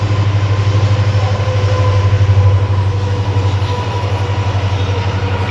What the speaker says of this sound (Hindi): ट्रेन निकल गई।